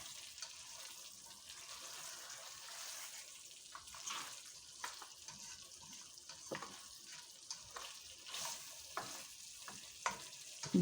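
Okra and meat cooking in a pan for a Pakistani-style salan, with soft frying sizzle and repeated stirring scrapes, plus a splash of broth being added; faint and steady, with no talking.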